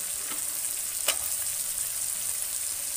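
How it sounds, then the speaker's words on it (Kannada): Chillies, cumin, black pepper, cloves, garlic and ginger frying in a pan for a village-style chicken curry, giving a steady, loud hiss with one brief clink partway through. No one speaks. "ಇದಿಷ್ಟನ್ನು ಚೆನ್ನಾಗಿ ನಾವು ಫ್ರೈ ಮಾಡಬೇಕು."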